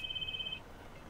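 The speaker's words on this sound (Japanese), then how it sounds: "あら、電話鳴ってるわ。鳴ってる鳴ってる。" A mobile phone rings inside a horror-tinged video game, a steady electronic trilling tone repeating for about half a second before cutting off, leaving a low ambient hum.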